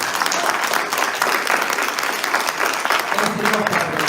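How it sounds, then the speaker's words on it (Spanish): Audience at a labour law conference breaking into applause, a thick, continuous roar of clapping from a sizable crowd, loud and even, with faint voices mixed in beneath. "Solo por esto se merece un aplauso para iniciar la conferencia."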